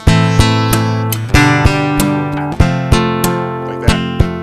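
Acoustic guitar strummed and struck percussively, with sharp body-thump hits in a repeating pattern of paired kick-like accents over ringing chords, loud and close, no voice.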